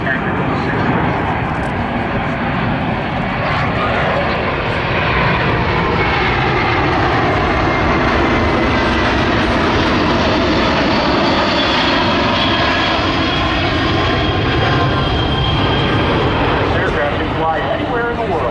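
Boeing C-17 military transport aircraft maneuvering overhead at the Oshkosh, Wisconsin airshow: a loud, continuous jet engine roar that fills the whole stretch, with a slowly shifting tone as the plane passes.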